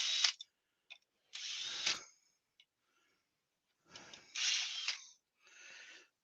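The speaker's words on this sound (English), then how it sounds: "I was drilling 3mm holes for the wires, for the lights, for the LED lights." Short bursts of a power drill boring 3mm holes into a small oak bowl, several separate runs of a second or so each with quiet gaps between, close and clear with no talking.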